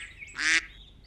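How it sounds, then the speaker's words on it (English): One short, nasal quack from a duck, fairly close and clear, over a faint background hum. No talking. "I just heard ducks quack."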